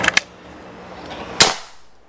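Two sharp, close PCP air-rifle shots from a Predator Bocap Black Army Phantom, the first a quick double crack and the second a louder pop about a second later, each with a short decaying tail.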